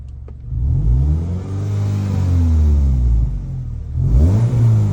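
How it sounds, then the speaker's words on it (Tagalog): A car exhaust with its clogged catalytic converter removed revs hard, giving a loud, race-car-like roar that climbs and falls through one long sweep before a second quick blip near the end. "parang race car na yung tunog ng exhaust niya."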